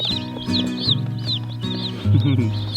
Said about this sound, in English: All right, so we got 2 chicks here. This is the Cornish cross, and this is the ginger broilers.